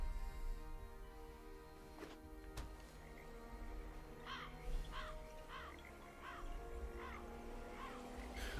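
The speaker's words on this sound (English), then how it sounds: "that's the marsh sound effect. I was wondering where the freaking crow calls were coming from." Crow calls from the marsh ambience in MTG Arena: a series of harsh, evenly spaced caws, faint and distant over a low hum, repeating about every half second.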